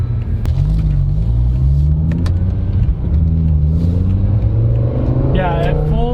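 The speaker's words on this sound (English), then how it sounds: "at full throttle, that single clutch gearbox is pretty crazy" A BMW V10 M5 with single-clutch SMG gearbox accelerates hard at full throttle, its loud engine note climbing steadily in pitch through the gears, heard from inside the car with a brief dip near a shift.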